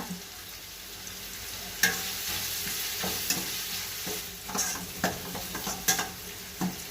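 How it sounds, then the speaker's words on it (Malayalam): Two chopped onions and curry leaves sauté in a pan for a fish curry: a soft, continuous frying hiss broken by scattered spoon scrapes and clinks against the pan. "ഇതിലേക്ക് ഒരു 2 സവാള അരിഞ്ഞെടുത്ത് കൊടുക്കാണ്. കുറച്ച് കറിവേപ്പില,"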